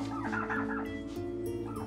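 A turkey gobbles in a loud, close, rapid burst, its warbling call rising and then trailing off, with a second shorter gobble near the end over a steady low hum in a domestic indoor scene.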